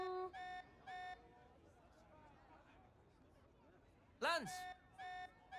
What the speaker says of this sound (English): This alarm's worrying.